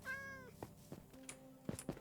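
Minecraft cat meowing in a short game clip: a clear drawn-out meow at the start, followed by several brief thuds and small chirpy blips, moderately loud, with no talking.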